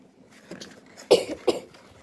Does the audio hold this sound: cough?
yes